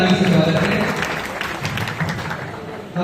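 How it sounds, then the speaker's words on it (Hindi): An audience claps loudly and steadily to welcome a guest at a ceremony, a dense wash of applause with a voice heard over it. "उनका भी जोरदार ताली से स्वागत है।"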